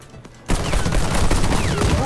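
Garota gun firing in the Warface video game: after a brief quiet start, a loud, continuous burst of rapid automatic gunfire fills the rest of the clip with dense, close shots.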